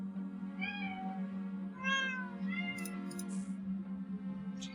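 Cats meow at 3:30 in the morning indoors, giving several drawn-out, plaintive cries one after another over a steady electrical hum, fairly close and moderately loud.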